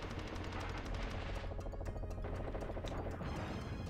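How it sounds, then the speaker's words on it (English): Rapid gunfire and explosions from a PS1 video game, a dense continuous barrage of shots and blasts filling the whole moment with no talking. "Oh, explosions."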